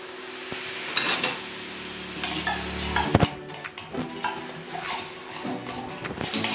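A spoon stirs a mango ice cream mixture with condensed milk by hand in a bowl, producing soft scraping strokes and occasional clinks against the side, close up and moderately loud.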